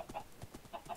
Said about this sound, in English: No, I don't need chickens. Chickens are crap.